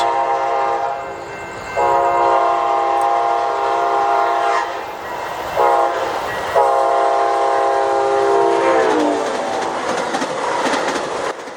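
Amtrak's Sunset Limited passenger train, led by Charger locomotives, passes close and loud with long sustained horn blasts and rolling rail noise beneath.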